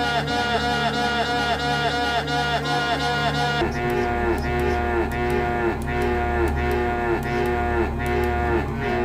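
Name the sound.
cows mooing when clicked in video game Return to Krondor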